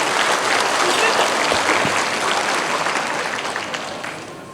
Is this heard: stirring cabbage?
no